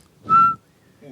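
A person whistles one clear, sustained high note for about a quarter second, loud and close, followed by a faint trailing sound.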